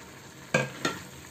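Zucchini and potato chunks frying in a pan with spices, two quick scraping stir strokes over a steady background sizzle, close and fairly loud, no voices.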